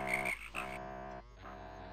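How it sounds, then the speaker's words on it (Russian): Frogs croak in the swampy setting of the video game System Shock Enhanced Edition, a steady chorus of repeated croaks with no talk. "Фу, жабы, комары, блин."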